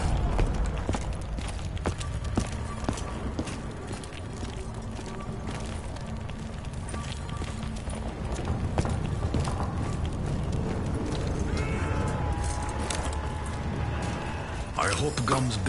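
Horse hooves clip-clopping in the Der Eisendrache map of Call of Duty Zombies, a steady galloping rhythm under dense game effects and a talking voice, with no clear neigh standing out.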